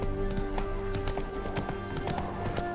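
Roach the horse galloping in The Witcher 3: Wild Hunt, with fast rhythmic hoofbeats pounding steadily and close over a constant bed of game ambience.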